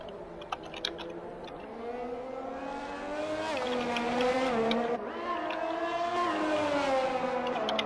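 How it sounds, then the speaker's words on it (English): A race car in a sim racing game at the Abu Dhabi circuit, its engine note rising and falling through gear changes and accelerating, steady and prominent, with faint clicking keyboard-like taps early on. "Now Kobe coming through is in the beginning of Sector 2, purpling Sector 1"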